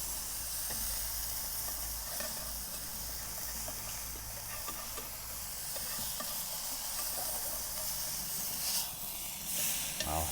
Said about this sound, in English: I'm gonna start scraping a little bit. Get all that crust staying on the burger,